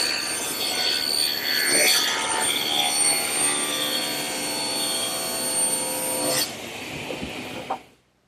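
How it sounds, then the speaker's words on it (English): Table saw ripping a glued-up wooden board to width in a woodshop: a loud, steady high-pitched cutting whine that runs for several seconds, then drops away as the blade spins down, with no talking. "now I'm going to take it over to my table saw and rip it to 18 inches"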